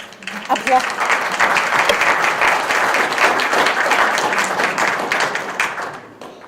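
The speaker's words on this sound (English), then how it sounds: "Thank you for all holding your applause for that." An audience at a public forum applauds with dense, steady clapping that lasts several seconds and then fades out.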